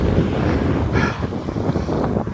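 Strong headwind buffets a cyclist riding along the Jeddah Corniche, a loud, continuous low roar of wind rumbling against the microphone throughout.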